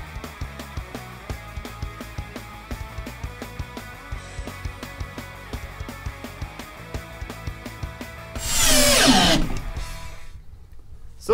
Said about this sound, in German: Deswegen schrauben wir das auch ein bisschen fester an.